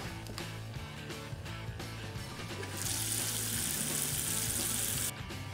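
Water from a tap running steadily into a sink, a loud, continuous rushing stream that starts partway in and cuts off shortly before the end, with faint background sounds before it.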